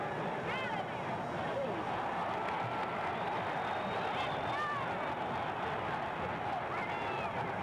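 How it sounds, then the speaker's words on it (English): Roaring crowd at a 1964 NBA Finals basketball game in the arena, a dense, sustained wall of cheering and babble with shrill whistles and whoops rising through it. "This crowd is in a bedlam as Rogers shoots."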